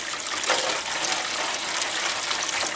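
Steady rushing splash of homebrew beer wort being poured, continuous and fairly close, with no pauses for about three seconds.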